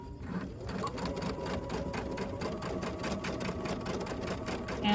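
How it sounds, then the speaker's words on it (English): A domestic sewing machine top-stitches along folded fabric edges for a small pillow, running steadily with a fast, even mechanical whir and rapid needle clatter close by throughout. "Just gonna drop my foot, and I'm gonna sew top stitch"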